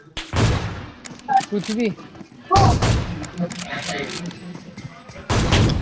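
Video game gunfire during a 2v3 Wow mode match: three loud bursts of shooting, near and sharp, spaced a few seconds apart, with excited players talking between and over the shots.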